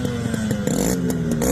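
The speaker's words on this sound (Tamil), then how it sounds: "இந்த வண்டியோட பீட் சவுண்ட் கேட்டிருப்பீங்கன்னு நினைக்கிறேன்" A Yamaha RX100 motorcycle, converted from a 135 engine to 100, idles with a rapid, steady two-stroke beat, loud and close, with no voices over it.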